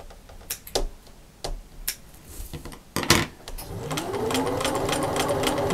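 A sewing machine stitching a quilted shopper bag: a few scattered clicks and short bursts of stitching, then a steady, fast run of the needle that keeps going to the end, close and clear.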